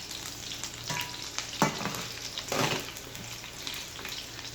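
Potatoes frying in a pan, a steady close sizzle broken by a few louder bursts of stirring and crackling, with no talk over it.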